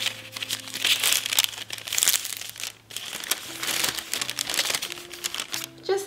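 Baking paper crinkles and crackles as it is folded by hand into a small tray, close and crisp, in irregular bursts of rustling with faint background hum.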